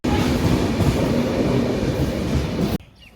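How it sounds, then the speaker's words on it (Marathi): A train at a railway station platform in Maharashtra, a loud, continuous rolling rumble that fills the scene, then abruptly cuts away to near quiet at the end. "हे या ठिकाणी ट्रेन उभी आहे."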